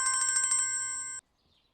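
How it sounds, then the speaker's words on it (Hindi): A phone ringtone trills loudly in a rapid repeating electronic pattern, holds a steady tone, then cuts off abruptly, leaving near silence and no talking. "फोन बज रहा है तुम्हारा, देखो जरा, उठा लो"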